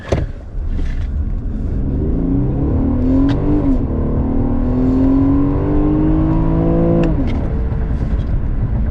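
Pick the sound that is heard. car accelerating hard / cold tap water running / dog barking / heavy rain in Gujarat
car accelerating hard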